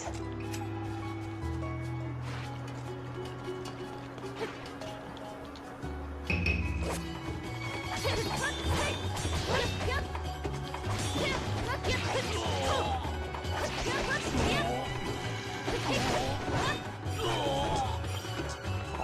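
Sword strikes whacking an enemy in the video game Muramasa The Demon Blade land as rapid clashing hits and crashes over game music, growing busier and louder partway through.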